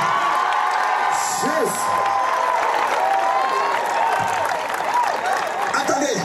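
A church congregation applauds and cheers for Jesus at a French-speaking revival service, sustained clapping and whoops filling the room steadily, with a preacher's voice and scattered shouts mixed in throughout.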